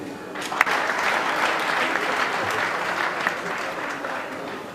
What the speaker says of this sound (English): Ladies and gentlemen, can you please give them a round of applause?